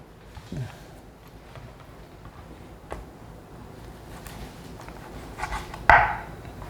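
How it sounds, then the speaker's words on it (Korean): A kitchen knife cuts raw meat into small bite-size pieces for stir-frying, giving scattered soft thuds against a cutting board with a sharper knock near the end, under quiet background room noise. "고기도 이제 같이 볶아야 되니까 고기도 그냥 작게만 잘라줍니다"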